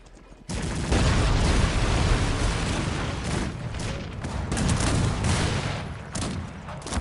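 Musket volleys and artillery fire in the Cossacks 3 strategy game, a dense continuous barrage of overlapping gunshots and booms that starts abruptly and stays loud throughout, with no voice over it.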